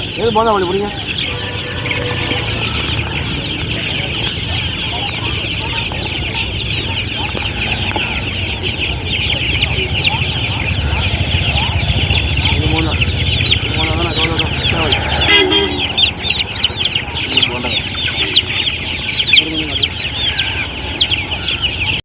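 Dense chicken clucking fills a busy poultry market, many birds close by in a steady chattering mass with occasional louder squawks, a few faint voices mixed into the din.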